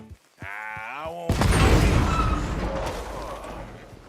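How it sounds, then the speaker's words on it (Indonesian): In Red Dead Redemption 2, a brief tonal sound gives way to a loud, deep dynamite explosion with a rumbling, debris-filled tail that slowly fades out. "suara ledakan itu terdengar sangat keras"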